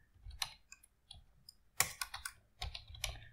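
Close, quiet computer keyboard typing of Python JSON code comes in scattered bursts of clicky keystrokes with short pauses between groups.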